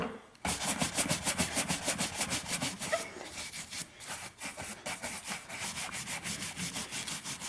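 Steady back-and-forth brushing as a shoe is buffed with a brush, a rhythmic scrubbing rasp repeating in quick strokes, close and alone with no talking.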